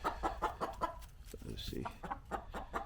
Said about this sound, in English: You can see a couple of my chickens I have here.